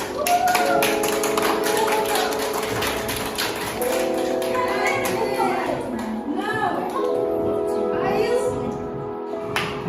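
Children clapping in quick, uneven bursts at the start, then talking and chattering in the foreground while scattered taps continue.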